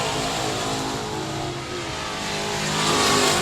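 Race cars on the speedway oval at 67 Speedway of Texarkana, engines roaring at full throttle in a dense continuous drone that swells toward the end, loud and close with no talk.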